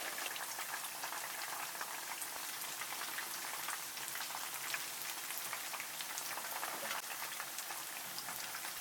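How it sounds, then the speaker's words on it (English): Pieces of fish fry in hot oil, giving a steady, dense crackling sizzle throughout with no pauses, moderately quiet and continuous. "Let them fry for 7 minutes."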